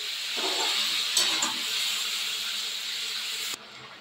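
Raw hilsa pieces go into hot mustard oil with black cumin in a pan, setting off a loud, steady hiss with a couple of brief bursts before it cuts off abruptly near the end.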